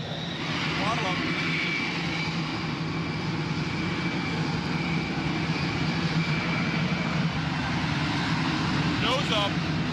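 An aircraft engine is throttled up to 70%, giving a steady droning roar with a thin whine on top, heard over faint cockpit voices.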